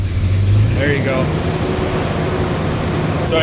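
Ford Ranger engine running rough and stumbling after a fuel pump replacement, a steady close mechanical drone with uneven pulses, heard alongside someone talking.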